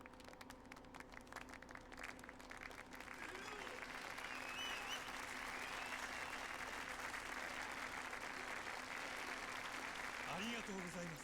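Crowd applause inside the video game Yakuza 0, steady clapping that swells after a few seconds and then holds evenly, moderately distant, with a faint voice and other game sounds mixed underneath.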